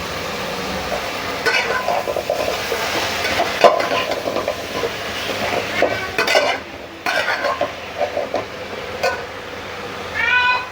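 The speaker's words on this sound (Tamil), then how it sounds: "குக் ஆகிட்டு இருக்கு ப்ரான்ஸ் கிரேவி." A prawn gravy with drumsticks and potatoes bubbles and sizzles in a pan, with a steady moderate frying hiss, occasional stirring scrapes and clinks, and a cat meowing several times in the background.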